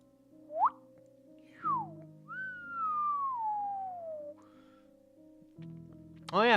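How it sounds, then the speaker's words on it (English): A person whistles a few rising and falling notes, one long sliding tone among short swoops, set against a steady electronic hum from a gaming setup. "I learned how to whistle too, like a while ago too"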